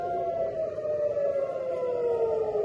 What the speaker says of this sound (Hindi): आप सायरन सुन सकते हैं।